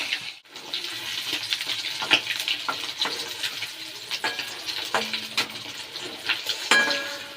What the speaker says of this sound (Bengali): এবার চলুন, মাছটা ভাজা হোক।